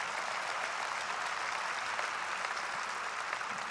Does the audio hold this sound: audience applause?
yes